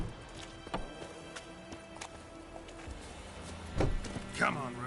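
Hooves clip-clopping from a galloping horse in The Witcher 3 video game, irregular thuds under a game soundscape with occasional louder hits near the end.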